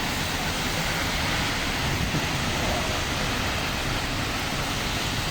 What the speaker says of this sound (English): Rain falling in UAE.